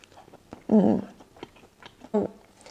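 Close-up chewing of soft braised Dong Po Rou pork belly, a few wet, squelchy bites with quiet mouth sounds between them.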